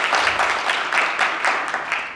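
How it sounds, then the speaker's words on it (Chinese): A church congregation at a Taiwanese-language service claps to welcome visiting women from an Asian church women's conference, a dense burst of many hands in rhythmic waves, loud and close, with no speech. "我们拍拍手欢迎从亚洲妇女协会来的姐妹。"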